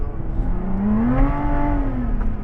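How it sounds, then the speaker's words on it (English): A Lotus Exige Sport 410 engine revs up briefly on the Anglesey circuit, its pitch rising and then easing as the inside wheel spins, close and continuous for a couple of seconds. "The inside wheel just spinning."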